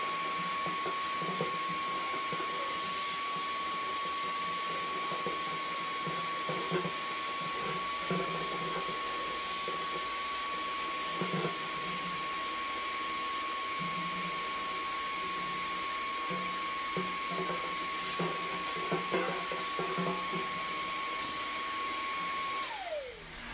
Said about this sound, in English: So we're gonna have to vacuum this tank back out.